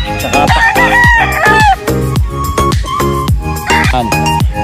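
Chickens on a big poultry breeding farm, heard up close and loud. Several roosters crow in overlapping calls over steady clucking, with no speech.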